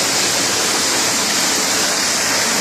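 Water rushes nearby at a temple site: a loud, unbroken hiss like a waterfall or fast stream, with no voices.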